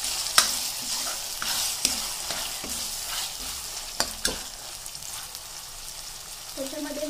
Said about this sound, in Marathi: त्याला हलवते